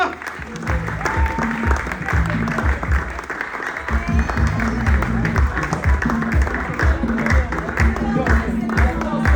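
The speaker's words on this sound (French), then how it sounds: "veuillez applaudir comme il se doit" A comedy audience applauds loudly as a comedian comes on stage, dense sustained clapping with a rhythmic pulse and crowd murmur running throughout.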